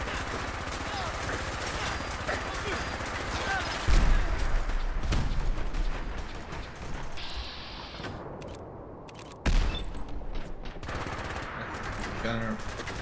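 Rapid bursts of gunfire in modded Fallout 4 crackle through a skirmish in the Fens, with two heavier thumps standing out among dense, continuous shots.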